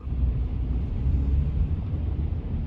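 Steady low rumble of afternoon Hong Kong city traffic heard from inside a moving car, a dense continuous drone with no distinct events.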